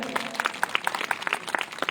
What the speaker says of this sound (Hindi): तो जोरदार तालियों के साथ एक बार फिर उनका स्वागत किया जाए।